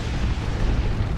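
A rocket run strike explodes in the video game Dawn of War 2, a single dense, rumbling blast with a heavy low end that holds for about a second without any clear onset or tail.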